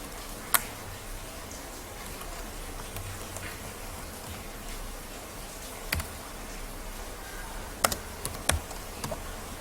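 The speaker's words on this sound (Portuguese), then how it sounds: "Vamos digitar." Sparse keystrokes on a computer keyboard, a few isolated clicks spread over a quiet background hiss, with a small cluster of taps near the end.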